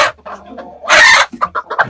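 Chickens cluck close by, a burst of loud squawking followed by several short clucks in quick succession.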